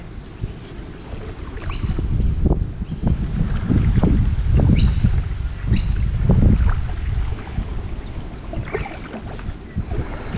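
Wind gusts buffet a kayak out on North Creek Canal, a steady rushing roar with low rumbling surges and faint splashes against the hull, close and alone without talk.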